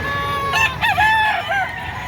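A red Kelso rooster at a livestock market crows loudly and close by, one full drawn-out call over a background of low crowd noise.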